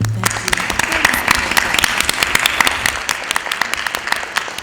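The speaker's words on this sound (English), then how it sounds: "I think everyone should give them a nice round of applause" Audience applause at a League of Women Voters board of education candidate forum in Plainfield, a dense, steady round of clapping holding for several seconds and easing slightly at the end.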